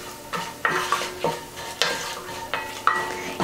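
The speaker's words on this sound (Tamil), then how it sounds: "இப்போ நல்லா இத வதக்கி விட்டுக்கலாம்" Whole spices (cinnamon pieces, star anise and stone flower) sautéed in oil and ghee in a Dutch oven, stirred with a long spoon. Repeated close scrapes and clinks ride over a soft continuous sizzle.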